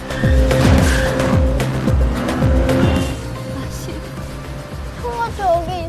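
A car speeding away with squealing tires in a Korean film about a female taxi driver, loud engine roar with repeated skidding squeals that fade off after a few seconds.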